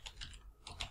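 Quick keystrokes on a computer keyboard as a command is typed, a short burst of light, close clicks with no talk.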